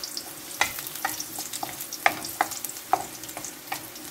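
Garlic sautés in hot oil in a pan as the base for a chicken and bean sprout stir-fry, a constant close sizzle broken by sharp taps and scrapes of a spatula every half second or so, with no talking.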